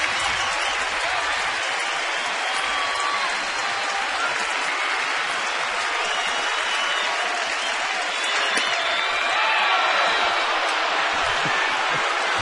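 Baseball crowd at a stadium gives the home plate umpire a Bronx cheer, a loud, steady wash of mixed jeers and applause that holds for the whole stretch without a break.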